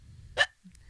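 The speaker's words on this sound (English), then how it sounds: "And now hiccup." A person hiccups on cue: a single short, sharp hiccup, close and fairly quiet, against a faint low background hum.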